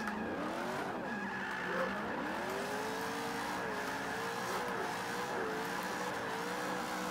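A V8 BMW engine in Forza 5 drones and revs continuously while tires squeal through a long drift, loud and steady throughout.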